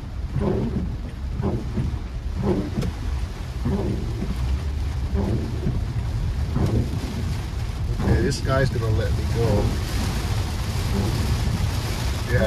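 Heavy rain pounds a car on a Florida highway in the afternoon, a constant roar of water and road rumble with bursts of spray, while a driver talks briefly over it.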